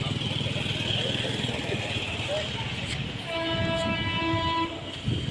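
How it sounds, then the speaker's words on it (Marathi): A Pune local train bound for Talegaon runs through Akurdi station, its rumble steady before a loud, sustained horn blast sounds for over a second, with faint voices in the background. "लोकल चाललेली आहे तळेगाव"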